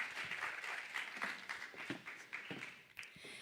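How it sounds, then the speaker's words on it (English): Scattered audience clapping at a youth forum, a modest crowd applauding with individual claps audible, uneven and fairly quiet, fading slightly toward the end. "Give a round of applause to our wonderful moderators."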